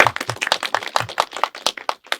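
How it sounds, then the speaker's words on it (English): A short burst of audience applause, a small crowd clapping unevenly with sharp, close individual claps and no talking over it. "Round of applause."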